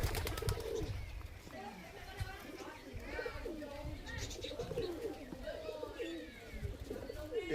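High-flying Giribaz pigeons cooing close by in repeated soft throaty calls, mixed with wing flutters and background noise as people talk nearby.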